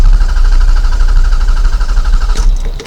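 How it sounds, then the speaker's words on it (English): A broken car's engine turns over on the starter without catching, a steady low mechanical churn with a repeating whine, ending in a couple of louder clunks near the end. "Engine cranks but will not run."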